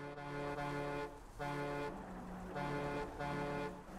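Car horn honking in Borderlands 2, loud sustained harmonic blasts repeated four times in a steady rhythm with brief gaps, close and without talk.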